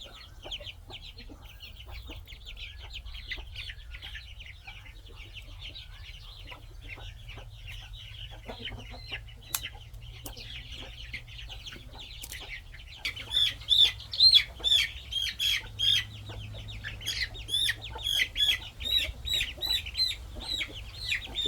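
Many high, thin cheeps from chicks, scattered at first and then coming in quick repeated bursts, close by over a low background hum.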